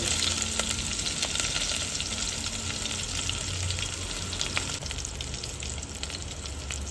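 Cumin seeds and chopped onion fry in hot oil for a Gujarati potato shaak, giving a dense, even hiss that carries on steadily throughout with occasional faint clicks and no voices.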